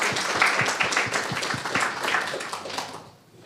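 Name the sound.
audience applause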